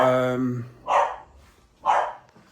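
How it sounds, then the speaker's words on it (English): A dog barks twice in sharp, separate bursts about a second apart, fairly close, right after a short stretch of a person's voice. "the dog's kicking off"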